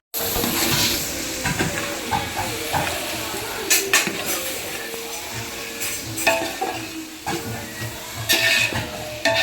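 Onions and tomato fry for a chicken dum biryani, a constant close sizzle broken by scraping and clinking as a spoon stirs the pan.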